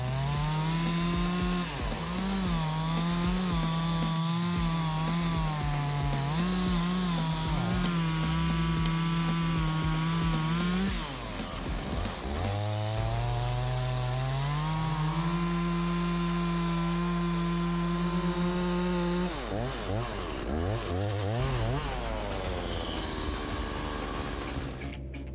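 A large chainsaw with a 3.7 horsepower motor and 20-inch bar revs loudly, its whining engine pitch rising and falling as it bogs into giant tree trunks, dropping and recovering twice during long cuts.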